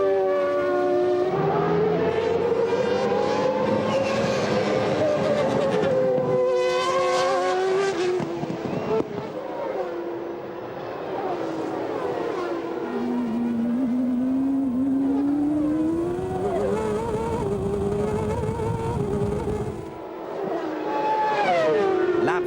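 Formula 1 cars from the 1994 season race past with high, wailing engine notes that climb and dip through gear changes, loud and continuous, with several cars overlapping and a faint commentator's voice beneath.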